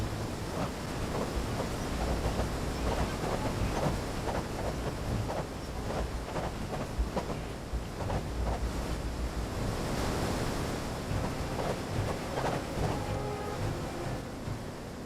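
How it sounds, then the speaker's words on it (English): A big waterfall in the video game Guild Wars Nightfall roars as continuous rushing water, a steady dense wash with faint irregular splashes, alone and unbroken. "Big waterfall."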